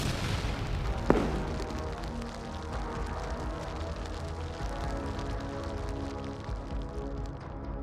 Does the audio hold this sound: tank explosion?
yes